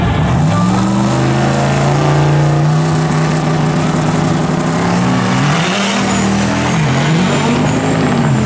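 A Cyclone truck drag racing down the strip at a street car event, its engine roaring very loud and close with steady high revs, brief gear-change dips, and sustained acceleration throughout.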